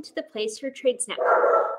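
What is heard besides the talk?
dogs barking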